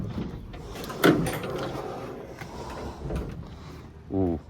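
A Mercedes Vario short-wheelbase van's rear door clunks open with a sharp knock, followed by rattling and shuffling, then a softer thud; a person speaks briefly at the end.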